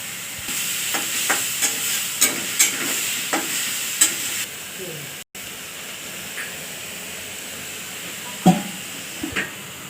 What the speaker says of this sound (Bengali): গিমা শাক ভাজছে,